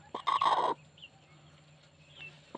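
A protective Hmong black hen with newly hatched chicks lets out one short, harsh burst of clucking close by, then falls quiet apart from faint, scattered little sounds.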